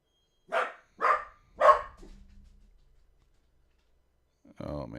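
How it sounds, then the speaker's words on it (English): A dog gives three sharp barks in quick succession, close and fairly loud, followed by a low rumble and near-silence before a brief burst of other noise at the end. "Oh, man, this dog."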